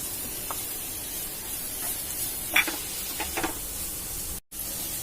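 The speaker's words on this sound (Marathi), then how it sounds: "कांदा थोडासा लाल झालाय लसूण टाकली आता" Onion and garlic fry in a pan for corn paneer butter masala, a steady close sizzle and hiss with a few faint utensil taps and a brief dropout near the end.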